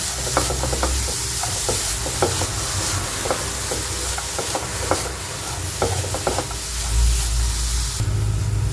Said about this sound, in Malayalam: ഒരു ടീസ്പൂൺ ചിക്കൻ മസാല കാൽ ടീസ്പൂൺ ഗരം മസാല നന്നായി മൂപ്പിച്ചെടുക്കട്ടോ വഴറ്റിയെടുക്കാം